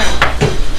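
Pots and pans clang twice in a busy cooking-competition kitchen, two sharp metallic knocks less than a second apart, loud and close, with no talking.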